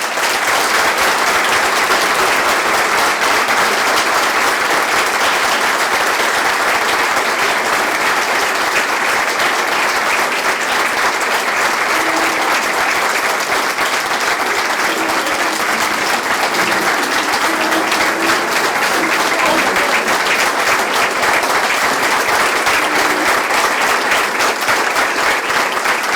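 Sustained applause from an audience at a high school Hall of Fame induction ceremony in Taylorville, a dense, steady clapping that fills the room for the full stretch with no voices rising above it.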